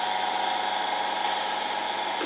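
Electric motor of a metal lathe running steadily at an even pitch, a continuous mechanical hum and whine that stays level to the end, with no talking.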